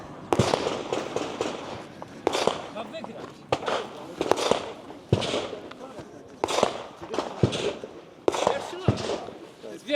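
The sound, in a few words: gunshots in a practical shooting competition stage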